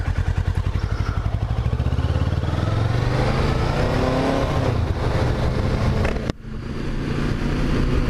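A white Kawasaki Ninja 636 sport bike is ridden on a mild day, its engine loud and close. The buzzing drone climbs steadily in pitch, then drops sharply after a brief dip, with wind rush beneath it.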